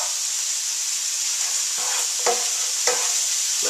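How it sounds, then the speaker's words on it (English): Crushed red peppers saute in a hot pan for a bean and Soyrizo chili, with a steady close sizzle and a few stirring scrapes cutting through it. "Let this saute up a bit."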